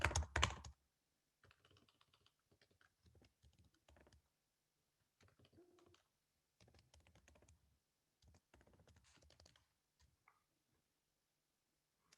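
Keys clatter on a computer keyboard as an email address and password are entered, in short bursts of quiet typing separated by pauses, with one louder burst at the start.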